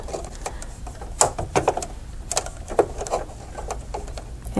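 A sewing machine stitches fabric along a slit in a Slit 'N Sew clamshell template, an awl guiding the material: close, short bursts of mechanical clatter and clicking that start and stop irregularly, with no one talking.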